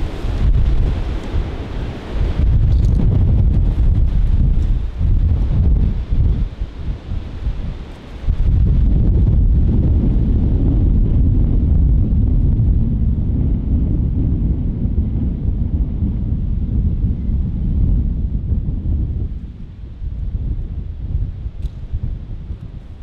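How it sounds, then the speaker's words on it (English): Strong wind on open ground at a 1950s Phantom jet crash site roars and buffets the microphone in heavy low rumbling gusts, briefly dipping early on before surging again and easing near the end. "that wind just got louder."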